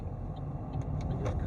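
A car's engine and tyre rumble on a road at a junction in Tallaght, steady and continuous, heard from inside a car during a driving lesson, with no talk.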